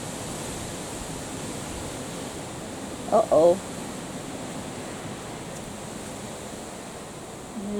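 Strong wind blowing outdoors on a sunny day, a steady broadband roar with gusty rumble close to the microphone, briefly interrupted by a short spoken exclamation midway.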